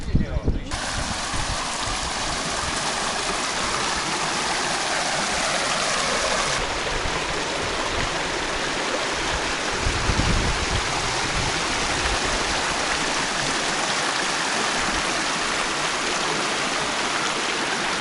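Steady rushing of flowing river water fills the whole stretch, continuous and fairly loud, with a brief low thump partway through.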